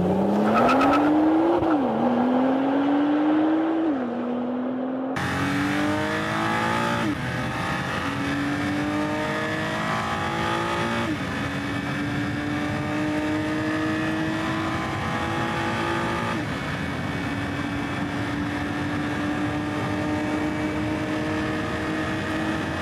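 A sixth generation Nissan GT-R accelerates hard from a standstill, its engine note climbing through several gear changes in a steady, loud, continuous roar with tire noise.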